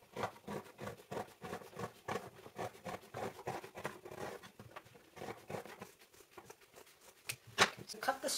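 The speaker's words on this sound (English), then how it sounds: "I'm going to cut this and use that to put over here" Scissors cut through an old towel in a quick, rhythmic series of close snips and fabric rasps, while a voice speaks at times.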